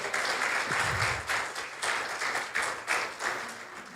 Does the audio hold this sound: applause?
yes